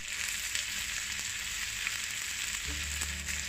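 Chicken slices stir-fried with three-colour capsicum in a wok: a steady, close hiss of frying with light scraping, and a low rumble that thickens near the end, with no talk.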